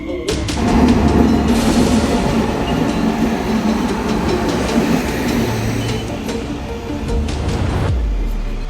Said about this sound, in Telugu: మన ట్రైన్ అయితే ఇప్పుడు వచ్చేస్తుంది చూడండి